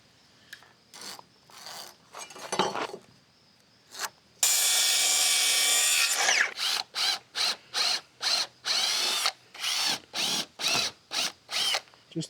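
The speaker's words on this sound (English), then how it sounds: "Just get the head of that screw just below the surface." A power drill drives a screw into wood during a trailer rebuild, first a long continuous high whine, then a rapid series of short, evenly spaced bursts as the screw is seated, loud and close.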